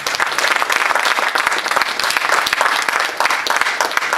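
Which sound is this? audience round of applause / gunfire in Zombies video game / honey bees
audience round of applause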